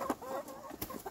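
Hens in a poultry yard clucking in short, uneven bursts, fairly close but soft, with a few scattered higher notes.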